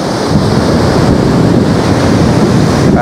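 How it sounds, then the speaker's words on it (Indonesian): Big ocean waves roar at Malang Selatan beach as a loud, continuous wash of surf, heavily buffeted by wind noise on the microphone, with no voices. "Kita lihat ombaknya, karena memang judulnya ombak di Pantai Malang Selatan ya"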